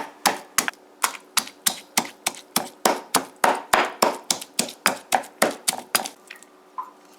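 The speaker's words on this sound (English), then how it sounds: "we pound the garlic and the pepper together" Garlic and pepper pounded together in a mortar for a Guyanese bunjal chicken curry, about twenty sharp, evenly spaced thuds close to the mic, steady and rhythmic with no talking.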